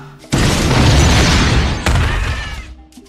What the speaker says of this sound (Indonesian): tiba-tiba saja bus yang tadi Maggie tumpangi meledak